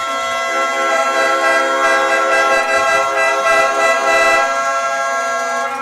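Steady blare of air horns at a high school football game between Giles County and Lawrence County, a loud sustained chorus of horn tones filling the whole stretch with crowd noise beneath; no distinct cowbell clanks stand out.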